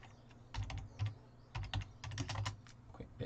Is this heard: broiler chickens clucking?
no